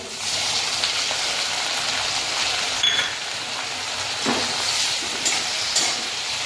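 Finely chopped tomato sautés in a pan with a ground paste, a steady medium-loud sizzle broken by a few brief stirring scrapes, with no talking.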